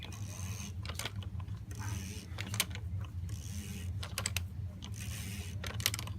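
Repeated ratcheting clicks while tightening a part during an oil change on a diesel Jeep Wrangler, in short quick bursts of several clicks each, fairly faint over a steady low hum.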